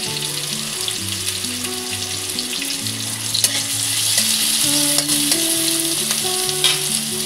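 Onion and green chili fry in refined oil, giving a steady, dense sizzle with occasional stirring clicks. Soft background music plays throughout, and the sizzle grows slightly louder midway.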